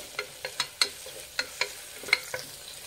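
Chopped onions and green chillies frying in a pan, a soft sizzle under a series of sharp spatula scrapes and taps at an irregular pace.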